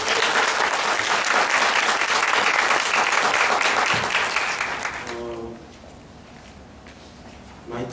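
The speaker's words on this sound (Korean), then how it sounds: "그럼 조광재 선생님 큰 박수로 모셔보겠습니다" An audience gives a lecturer a welcoming round of applause at a philosophy talk, dense steady clapping that fades out after about five seconds into a quieter room.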